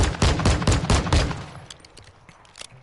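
Rapid bursts of automatic gunfire in the DMZ shooter game, loud and close for the first second and a half, then thinning into scattered, more distant shots.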